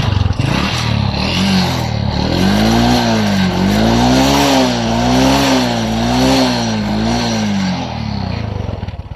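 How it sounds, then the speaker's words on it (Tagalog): A Honda Wave 125 motorcycle engine with a white-smoke fault runs continuously up close, a buzzing, slightly wavering drone that rises and dips in pitch without talk. "Panoorin nyo guys ang kanyang motor."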